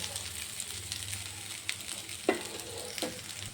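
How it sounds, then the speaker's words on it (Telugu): Boiled rice tipped into ginger garlic paste frying in a pan, with a constant soft sizzle broken by a few scraping stirs and taps of a spoon against the vessel. "ఇప్పుడు ఇందులోనే నేను ఆల్రెడీ బాయిల్ చేసి పెట్టుకున్న రైస్ని యాడ్ చేస్తున్నాను"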